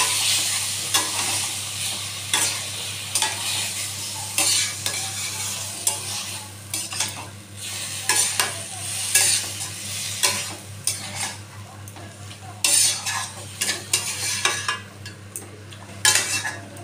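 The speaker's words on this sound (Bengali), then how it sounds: "এবারে একটু নাড়িয়ে দেবো।" Boiled banana flower fries in a pan while a utensil stirs it repeatedly. Clattering metal strokes and scrapes come at an uneven rhythm over a continuous sizzle, close and fairly loud.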